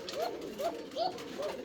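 An Arabian kuka pigeon calls in four evenly spaced, rising hooting notes about every 0.4 seconds, close and clear against a quiet background.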